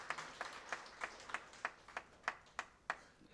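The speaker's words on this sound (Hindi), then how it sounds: "तालियों से इस्तकबाल किया जाए जी।" Evenly spaced claps from an audience at an All India Mushaira in Phulwari Sharif, Patna, greeting a guest. The clapping is faint and steady, a rhythmic beat roughly three times a second with no voices over it.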